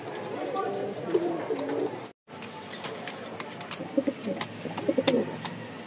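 Pigeons in a loft, including white and biscuit-coloured highflier breeds, coo in soft repeated bursts, close by, over a steady background with a brief dropout.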